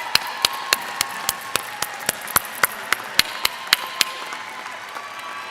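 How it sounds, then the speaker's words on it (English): Graduation ceremony audience clapping in a large hall, with distinct individual claps at a steady, sparse rhythm over a faint background of wider applause, moderately loud and without speech. "and give them a round of applause."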